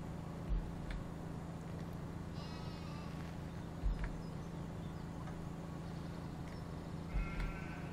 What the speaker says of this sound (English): Sheep seem to have a lot to say today.